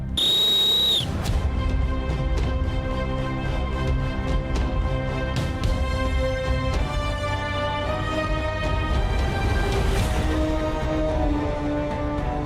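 A sharp whistle blast opens a round on a Tamil TV game show, followed by loud, busy music and crowd noise that fill the rest of the scene.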